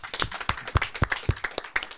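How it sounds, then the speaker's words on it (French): A small crowd claps together for a performer on stage, a quick run of bright, irregular hand claps lasting about two seconds with no voices over it. "Vous pouvez applaudir Wail"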